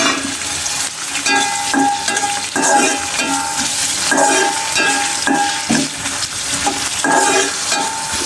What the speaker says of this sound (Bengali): এতে কি আমি আর একটা কড়াইতে শুটকি মাছটা ভেজে নিব